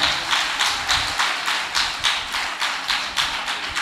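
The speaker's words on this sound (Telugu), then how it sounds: "చప్పట్లు కొట్టు ప్రభుకే" A church congregation clapping hands for the Lord at a New Year night service, about eleven sharp, regular rhythmic claps in unison, loud and steady, with no talk over them.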